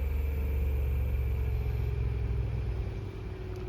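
An electric skateboard motor spins at maximum speed as a steady, close mechanical whine over a low rumble, holding even before easing slightly near the end.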